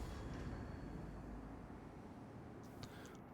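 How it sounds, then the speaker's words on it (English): Train rumble in the video game Star Citizen at Lorville, a steady low drone of a rail car with a brief lighter rattle near the end. "And we're going to get on the train."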